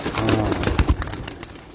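Pigeons coo softly on a rooftop where birds are kept and flown, a few low throaty calls close by with light rustling beneath.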